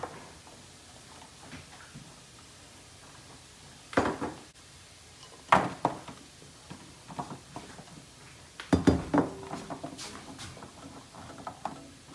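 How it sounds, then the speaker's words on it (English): Curry-coated vegetables being laid out on a metal sheet pan, giving scattered light clinks and taps with a few sharper clatters, close by and without talk. "I'm going to arrange them on the sheet pan."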